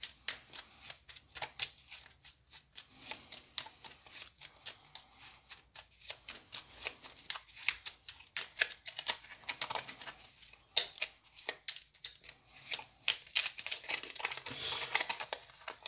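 An oracle card deck is shuffled and then cut, giving soft, rapid riffling and flicking of cards at close range, quiet and continuous.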